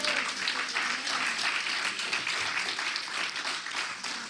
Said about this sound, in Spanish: Los que se gozan le dan un aplauso al Señor.